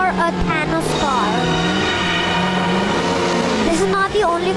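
A fast car engine roars continuously in a desert city stunt video game, a steady high whine that shifts pitch as it revs, loud and close, with game music or effects layered underneath.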